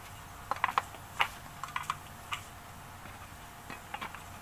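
Small plastic clips snap into a new fender flare for a Jeep Cherokee XJ, giving a few sharp, close clicks scattered irregularly over a few seconds, quiet and with no voices.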